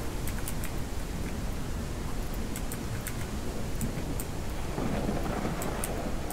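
Steady rainfall and low rolling thunder from a storm in the farming video game Ranch Simulator. The dense, even downpour continues throughout with no voices.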